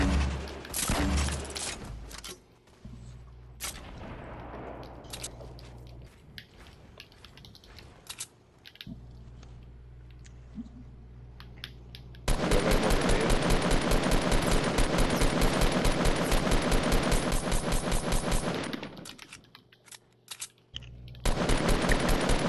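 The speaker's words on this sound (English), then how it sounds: "They shot at you." Fortnite Battle Royale gunfire, scattered shots early on giving way to a long, loud burst of rapid automatic fire lasting several seconds before stopping, then resuming briefly at the end.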